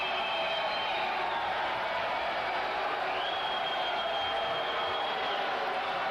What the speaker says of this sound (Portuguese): Ele está debaixo de vaias, pessoal, muitas vaias, muitas vaias.